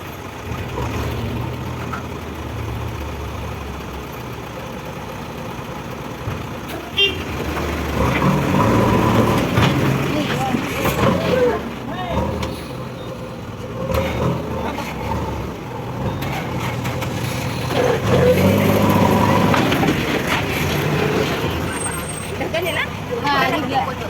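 A heavy truck loaded with sand, stuck in a roadside drain, runs its engine in a steady low rumble that rises and strains at times, with people talking nearby throughout.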